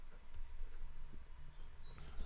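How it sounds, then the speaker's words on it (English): Pen scratching across paper while jotting notes, a soft continuous scribbling with small strokes, faint and close, with a light rustle near the end. "I was going to write this down as well"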